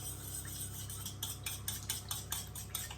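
A utensil stirs a quiche egg mixture with black pepper in a bowl, making a run of quiet, regular ticking taps against the sides, close but faint.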